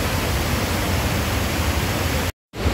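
A famous waterfall in Bath, UK, roaring as a loud, dense, unbroken wash of falling water that cuts out abruptly near the end.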